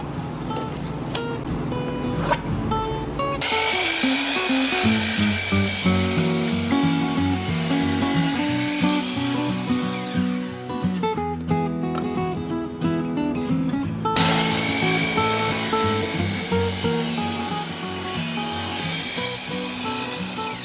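A power saw cutting a wooden board to size for a portable potting station, a loud continuous whine with shifting pitch and grinding rasp that runs without pause for about twenty seconds.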